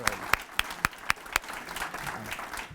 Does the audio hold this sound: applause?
yes